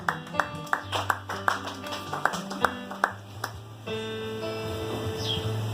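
Church congregation clapping in rhythm during a French-language worship service, a run of sharp, evenly spaced hand claps over music and singing, then the clapping gives way to sustained sound.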